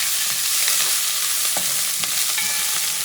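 Onions, oregano and garlic sizzle loudly in a hot pan while a utensil stirs them, giving a constant bright frying hiss broken by soft scraping strokes, close up with no talking.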